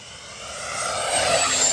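An FMS J-10 64mm electric ducted-fan RC jet flies at full throttle, a rising, whooshing turbine-like whine that grows steadily louder as the model passes nearer.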